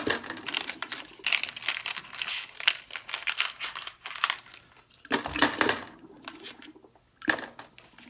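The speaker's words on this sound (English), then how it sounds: "place our brass into the rotary tumbler container." Brass cartridge cases, about fifty pieces, dropped into a rotary tumbler container, making a quick, dense run of bright metallic clinks and rattles that ease off, then come back in two short bursts near the end.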